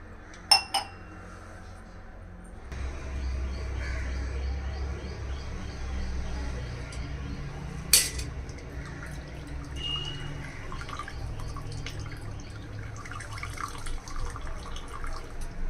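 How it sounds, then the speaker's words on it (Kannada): Homemade paneer being rinsed in about two glasses of water, with a steady wash of running or sloshing water and occasional clinks of a glass or dish, fairly close and without talk. "ಒಂದು 2 ಗ್ಲಾಸ್ ಅಷ್ಟು ನೀರನ್ನ ಹಾಕ್ಕೊಂಡು ನಾನು ಇಲ್ಲಿ ಈ ಥರ ವಾಶ್ ಮಾಡ್ತಾ ಇದ್ದೀನಿ."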